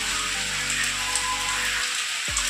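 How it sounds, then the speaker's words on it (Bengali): Steady rain hisses across the whole clip, a dense broadband patter with a low hum underneath that cuts out briefly near the end. "বেশ ভালোই বৃষ্টি পড়ছে"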